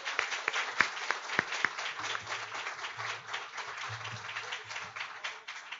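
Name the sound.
audience applause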